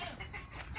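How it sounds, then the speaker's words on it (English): Brief burst of chickens clucking in a petting zoo pen, a close, busy cluster of hen calls lasting under a second. "look at all the little chickens. Look at all the chickens."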